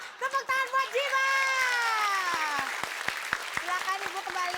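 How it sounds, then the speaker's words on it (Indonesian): A studio audience at a comedy variety show applauds, sharp claps dotting the sound beneath a person speaking loudly over them, moderately close and steady for several seconds. "Tepuk tangan buat Jiwa."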